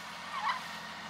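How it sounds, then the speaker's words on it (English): A single faint honk, likely from geese, out in the open countryside, heard once briefly and at a distance over quiet background noise. "Look at these crazy birds."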